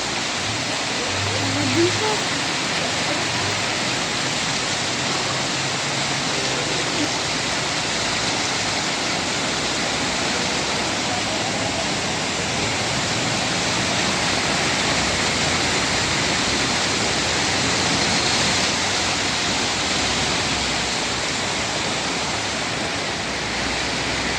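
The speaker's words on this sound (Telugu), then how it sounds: "వర్షం ఇళ్ళల్లో కూడా పోయింది వరద నీరు" Rain floodwater rushes along a main road in Dumpeta, a steady, loud broadband roar of flowing water that holds unchanged throughout with no pauses.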